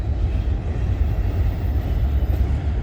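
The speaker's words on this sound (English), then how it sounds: "There's the end of that CN westbound train." Tail end of a CN westbound freight train rolling past toward a rail yard, a steady low rumble of wagons on track with faint wheel clatter, close and continuous.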